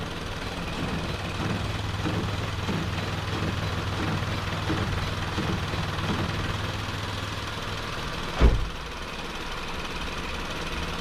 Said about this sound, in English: I'm still getting a little rough idle